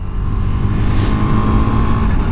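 KTM 390 Adventure motorcycle with Kenda Trakmaster DTR tires accelerating in the rain, the throttle rolled on, giving a loud, close, steady engine roar layered with wind and wet road noise.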